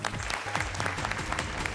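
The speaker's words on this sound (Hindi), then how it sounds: "और जोरदार तालियां हो जाएं उनके लिए" Studio audience applause on a television dance show, a dense steady clapping that stays loud and even throughout the short burst, with a low music or crowd bed beneath it.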